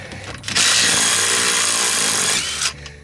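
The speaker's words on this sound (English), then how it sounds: "You gotta hear for these DeWalt tools, man." A DeWalt power tool spinning off nuts during crash damage repair on a VW Super Beetle Super Volksrod: a loud, steady high-pitched whir about two seconds long, starting abruptly and cutting off, with a brief rattle before and after.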